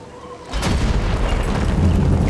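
A loud, deep explosion booms in the Sniper Elite 4 video game after a target is shot, bursting in suddenly after a quiet half-second and rolling on as a heavy rumble.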